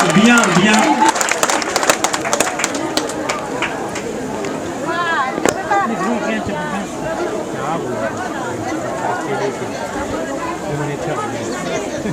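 Crowd noise from a theatre audience after a play at a Madrasah in Le Port, Réunion, with clapping bursts early on giving way to steady chatter and babble throughout.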